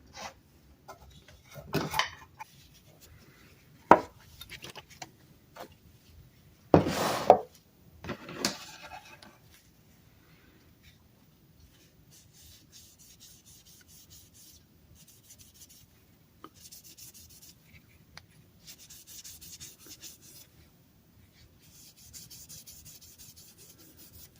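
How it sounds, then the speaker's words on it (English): Paste wax being rubbed by hand onto the wooden parts of a restored vintage gas can: soft, close rubbing and wiping strokes with a few sharper handling knocks early on, then quieter, steady friction. No one speaks. "And then we'll just put a coat of paste wax on it."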